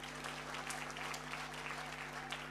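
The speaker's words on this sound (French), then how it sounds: "Applaudissez pour nous." Audience applauding at a second wedding-anniversary celebration in a hall, steady dense clapping throughout with a constant low electrical hum beneath.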